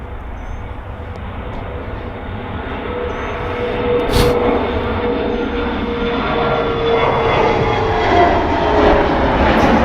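A Mitsubishi aircraft at Charlotte Douglas Airport produces a broad, steady engine roar that slowly swells, loud and continuous, with no voices over it.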